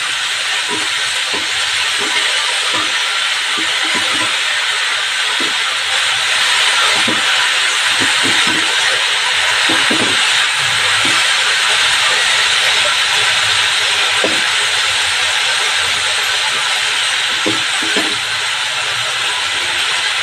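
Vegetables steaming under a lid in a pan give a loud, continuous broadband hiss that holds steady throughout, with faint soft taps and clicks underneath.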